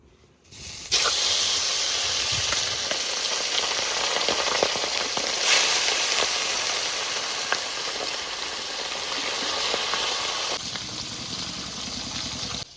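Loud, continuous sizzling and hissing of river fish frying in hot mustard oil in a kadai, steady for about ten seconds before dropping off.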